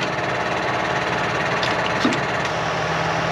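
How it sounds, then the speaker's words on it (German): A John Deere 6250R tractor idles steadily nearby while pumping air into a trailer train, with a low even engine rumble, faint mechanical clicks and a soft hiss. "Jetzt müssen wir kurz warten, bis der Trecker hier in unseren Zug ein bisschen Luft reingepumpt hat."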